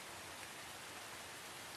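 Steady rain falls during a late-night drive home, a continuous soft hiss of drops with no voices or other sounds standing out.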